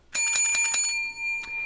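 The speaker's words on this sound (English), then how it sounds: "we do have to ring the bell" A bell rings out in a rapid run of about five bright strikes, then its tone hangs on and fades, broken by one more single ring near the end.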